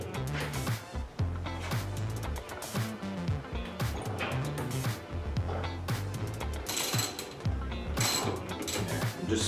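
A ratchet wrench clicks in rapid bursts while snugging a fastener on the front wheel of a GS550 motorcycle, close up, with brief pauses between strokes.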